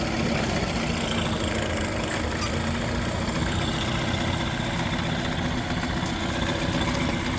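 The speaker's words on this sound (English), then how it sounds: "But the motor's running good and pumping water good." A 1995 Mercury 8hp two-stroke outboard motor idles steadily up close, a constant rattling, buzzing drone with no change in pace.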